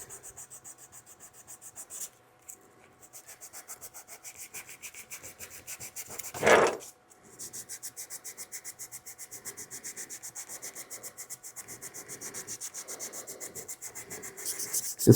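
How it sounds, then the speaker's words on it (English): A rock is sanded by hand during restoration in quick, even back-and-forth rubbing strokes, close and fairly quiet, broken by a brief pause and one louder knock or handling noise partway through. "start with the sanding."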